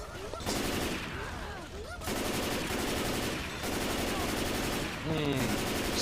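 Rapid gunfire in the zombie shooter Left 4 Dead 2, sustained bursts of automatic shots in several loud blocks separated by brief pauses, with game noise and effects mixed in.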